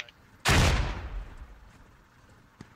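A single loud explosive blast from a grenade in the video game Squad, sharp onset then a rumbling decay over about a second, followed by a faint distant pop.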